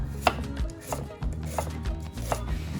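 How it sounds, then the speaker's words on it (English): A knife julienning an onion chops steadily on a cutting board, sharp clicks at an irregular, unhurried pace over a low background hum. "I'm gonna julienne the onion because I like that shape when I'm stir frying."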